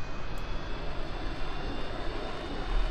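An aircraft engine roars at takeoff in Kerbal Space Program. The drone is loud and steady, with a constant broadband rumble and no speech.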